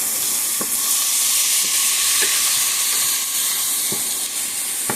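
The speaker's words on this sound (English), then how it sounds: "we want to toast the rice as well" Rice toasts in a hot pan, a steady loud sizzle and hiss running throughout, with occasional faint taps and scrapes of stirring and no talk.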